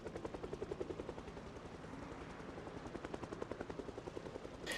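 Helicopter in a zombie video game, its rotor thumping in a steady fast pulse that stays loud and close throughout, with a brief burst near the end that may be gunfire.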